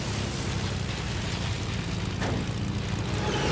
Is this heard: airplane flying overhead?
yes